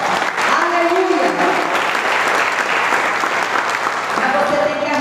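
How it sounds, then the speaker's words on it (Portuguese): A church congregation in Brazil applauds loudly and steadily, a dense wash of clapping with a preacher's voice over it. "Um forte aplauso a Jesus. Aplausos bem forte."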